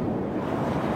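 Ocean waves wash onto a seashore as a steady, loud broadband rush of surf with some wind noise, filling the short moment without any voices.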